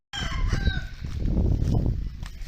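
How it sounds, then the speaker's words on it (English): A rooster crows once, loud and close, in a Thai neighborhood in Rawai, its drawn-out call trailing into clucking and rustling ambient noise. "there's one of many chickens in the neighborhood"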